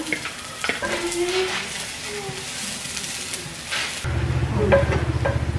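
Onions hit hot oil in a frying pan and start to crackle, with stirring and scraping. The sizzle thickens into a denser hiss near the end, heard close up.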